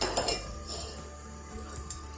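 Utensil scraping and clinking against a pot while spices with a pinch of asafoetida are stirred on a simmering stove for dal fry, a few close metallic taps over steady background hiss.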